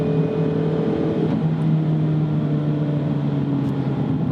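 Mazda Miata RF engine giving a low, steady rumble while cruising, one gear change partway through, heard from inside the car with light wind noise and no speech.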